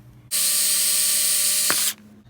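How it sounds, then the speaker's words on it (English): A power drill boring a small hole for an aquarium hose in a homemade hydroponics setup, a steady loud high whine that runs about a second and a half before stopping abruptly. "I'm going to drill a small hole for the aquarium hose"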